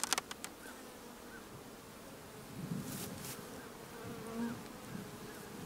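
Bees buzzing around a nuc hive being moved on a homestead apiary, a faint, continuous hum with a few individual insects droning closer to the microphone and light handling noises at the start.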